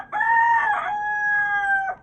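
An Aseel rooster crows once, close and loud, in a single drawn-out call of nearly two seconds that rises and then holds steady before fading, with no talking around it.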